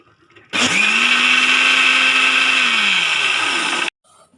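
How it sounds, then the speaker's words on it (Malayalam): A mixer grinder whips curd for Kerala moru curry, whirring loudly and steadily for about three seconds, starting abruptly and cutting off sharply, with a motor hum that dips as it winds down. "അത് നമുക്ക് വിപ്പ് ചെയ്യാനായിട്ടൊന്ന് മിക്സിയിലേക്ക് ഞാൻ ഇട്ട് കൊടുക്കുന്നുണ്ട്."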